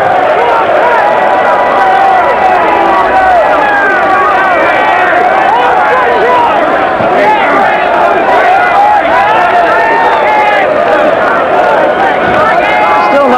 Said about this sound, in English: In full view, you'll hear chanting, Bruno, Bruno, Bruno